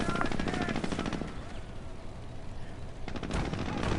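Gunfire from a Greyhound armored car's top gun in a tank battle video game, sustained loud bursts of automatic fire crowding the whole span, easing briefly in the middle before a heavy burst returns.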